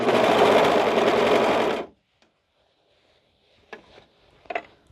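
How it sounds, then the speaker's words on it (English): A sewing machine runs in one steady, loud burst for about two seconds, then stops, leaving quiet with a few faint clicks and rustles. "use the sewing machine"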